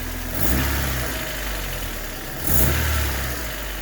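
A Honda EF/ED 1988-91 Civic/CRX engine idles close by after a header leak repair and is blipped twice, each rev swelling briefly before settling back to a steady idle.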